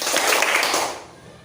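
A classroom of students claps together during a concentration clapping game, a dense burst of many hands that rings briefly and then fades out.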